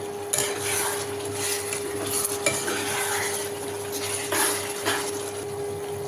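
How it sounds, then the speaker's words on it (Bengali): Amla pickle being stirred with ground roasted spices in a pan, giving a steady scraping and sizzling stir with occasional louder clinks of the spoon against metal, close and continuous, with no talking. "দিয়ে ভালো করে আমি নাড়ব।"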